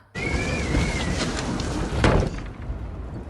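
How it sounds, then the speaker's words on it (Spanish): A door closes partway through with a single dull thud against a noisy, rumbling background, after a faint squeak of movement just before it. "una puerta que se cierra,"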